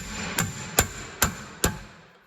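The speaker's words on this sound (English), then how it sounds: "when I hammer this thing, it's going to apply force into the screw and turn at the same time" A hammer strikes a manual impact driver four times at an even pace to loosen a rear brake rotor screw on a 2017-2023 Honda Ridgeline, each blow a sharp, close metallic clang with a short ringing decay.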